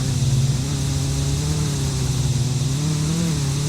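Car engine in the Mon Bazou video game revving steadily while the clutch slips, a loud, close, continuous mid-pitched drone that wavers slightly in pitch without dropping off.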